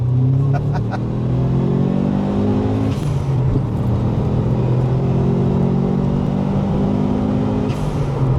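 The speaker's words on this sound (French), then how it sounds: "l'effet turbo, c'est cool. C'est ça, ouais, tout à fait, avec la dump valve qui siffle." A turbocharged Subaru Impreza engine with 212,000 km drones loudly and revs steadily at close range, with a couple of brief hissing whooshes from the dump valve.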